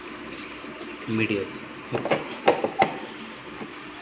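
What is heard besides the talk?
water flowing through an aquarium filter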